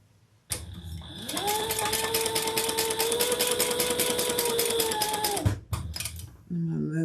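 A sewing machine runs steadily for about five seconds while stitching a custom-order bag, its needle hammering in a fast, even rhythm, then stops and starts briefly again, close up and loud.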